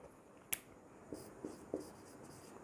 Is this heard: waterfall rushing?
no